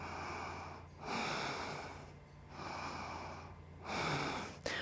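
Slow, steady breathing during a vinyasa yoga flow, with three long broadband breaths, each several seconds long and separated by short quiet gaps. The breaths are close and fairly loud, a soft hiss, and nobody speaks.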